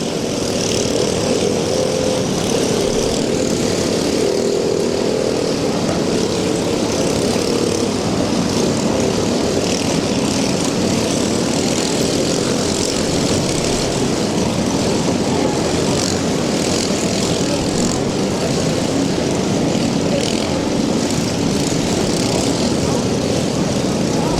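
A D9G bulldozer at a Bash for Cash pulling event roars loud and close, a continuous heavy engine drone that holds steady without a break for the whole stretch.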